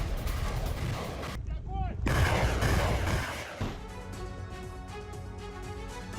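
Grad multiple rocket launcher strikes on Ukrainian army positions in Kursk, captured in war news footage: heavy rolling blasts and a brief whistling streak, then a dense, continuous roar of rocket fire and explosions, loud and close.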